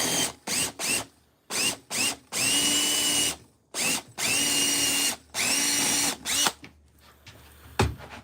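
A power drill runs in repeated bursts, each a loud, close whine lasting about a second, with short gaps between and one longer steady run.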